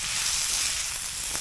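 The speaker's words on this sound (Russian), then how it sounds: "Пока все жарится, шкварится" Vegetables, including peppers, fry in a pan over an outdoor campfire, giving a steady hissing sizzle that holds evenly throughout, close and unbroken, with no talking.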